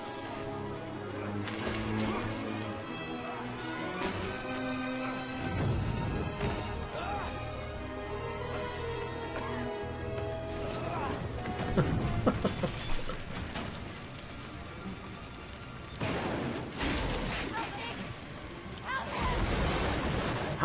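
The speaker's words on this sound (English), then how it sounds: "How would they survive the explosion?" A loud, dramatic soundtrack from the TV series Agents of S.H.I.E.L.D. swells as explosive crashes and blasts hit repeatedly, with booming bursts around the middle and near the end.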